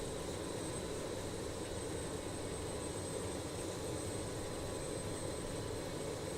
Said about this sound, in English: There we go, APU's firing back up now.